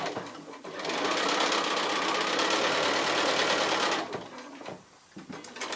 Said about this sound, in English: I'm just sewing my 3 little rows of the squares together